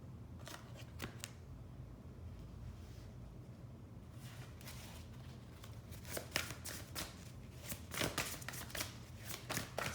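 Tarot cards are shuffled and drawn from a deck, quiet papery riffles and sharp flicks coming in bursts, denser near the end, close but faint with no talking.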